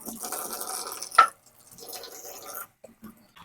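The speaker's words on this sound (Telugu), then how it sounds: "క్యాబేజీ కూడా కడుగుతున్నాను." Cabbage is washed by hand in water: a sharp splash, then softer sloshing and squishing that trails into a few scattered drips, close and fairly quiet.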